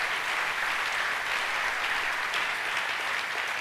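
A church congregation applauds steadily, a dense, even wash of many hands clapping at once, sustained without pause for several seconds.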